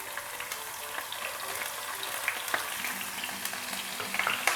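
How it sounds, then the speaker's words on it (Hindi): Onions fry in a pan for a chicken rice dish, a steady broadband sizzle with occasional crackles and stirring scrapes, fairly close and even throughout, no talk. "प्याज को भी 1 मिनट तक फ्राई करते हैं।"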